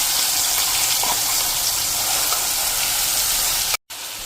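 Gravy paste of onion, tomato and whole spices hits hot oil with a loud, steady sizzle and broadband frying hiss, continuous for about four seconds before a brief cutoff near the end, with no talking.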